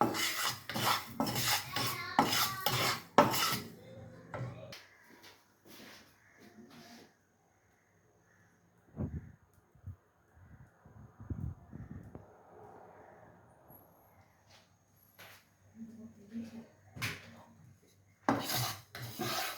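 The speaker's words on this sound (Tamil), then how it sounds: "இதுலேருந்து வெந்தயத்தை வறக்க போகிறோம்." Fenugreek seeds are dry roasted in a pan, with scattered scraping and rattling of seeds against metal and stirring scrapes, faint and intermittent, while a person talks at the start and end.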